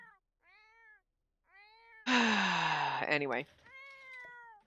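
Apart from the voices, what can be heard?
cat meowing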